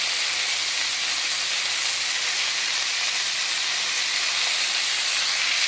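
Tomatoes sautéing in a pan for a village-style Tamil fish curry give a steady, loud, broad sizzling hiss that holds evenly throughout, with no voices.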